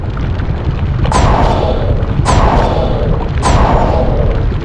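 Three heavy booming bursts of the Incendio fire spell from the Harry Potter and the Sorcerer's Stone PS1 game, each a sharp whooshing blast with a rumbling tail, evenly spaced about a second apart and loud.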